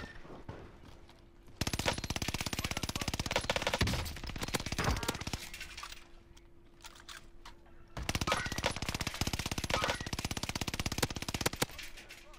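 Bursts of rapid automatic gunfire in a shooter video game, loud and dense, with quieter pauses between the long volleys and a faint steady hum underneath.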